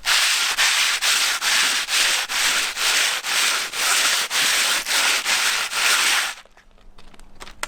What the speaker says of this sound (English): we've got some 80 grit sat on some big block of wood